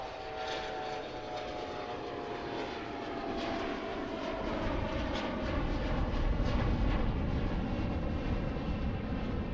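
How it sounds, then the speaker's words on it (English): An airliner takes off from runway 36 right at a busy cargo airport, its engine roar building steadily and growing louder over the run, a broad continuous rumble with a whining tonal edge. "Alright, let's take off on 36 right."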